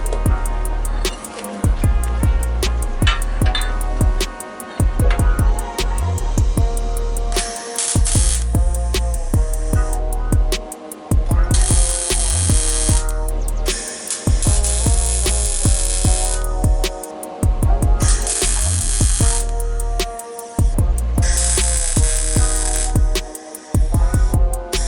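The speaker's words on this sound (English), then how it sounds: "Just like that, she's all welded." Welding on the rear end of a 2JZ-powered drift truck fitted with a 350Z rear end gives loud bursts of crackling, buzzing arc noise. The bursts are separated by short pauses, with no talk.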